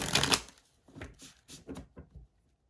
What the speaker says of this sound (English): I do just want to give this one more shuffle.